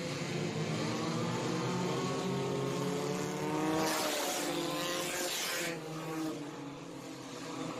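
Race cars roar around an oval raceway track during a feature event, engines droning and shifting pitch as the field passes, with a louder, noisier surge midway as cars rush by close.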